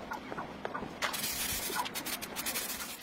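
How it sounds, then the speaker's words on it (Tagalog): A spray gun hisses steadily as it lays 2K04 epoxy surfacer onto a panel, a close and continuous airy spray with small pulses as it is moved. "At ngayon, nagbubuga na tayo ng 2K04 epoxy surfacer."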